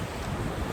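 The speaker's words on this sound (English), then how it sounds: "sorry about the wind, guys" Wind buffets a microphone on a Devon beach by the seawall, a brief, loud, rumbling gust of broadband noise with no talking.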